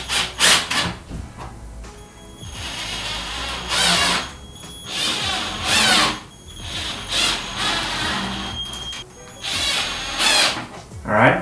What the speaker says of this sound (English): I'm using a power drill so it's easier and faster.